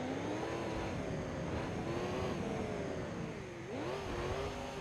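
Continuous engine drone of a car driven off-road in BeamNG Drive on an East Coast USA map, a steady mid-pitched hum with rising and falling revs, loud and close, with no talk.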